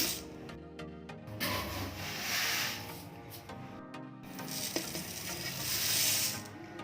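Uncooked rice poured over a layer of neem leaves in a storage container, producing a steady granular rustling and hissing patter at close range, swelling in two longer pours with brief pauses between, no talking.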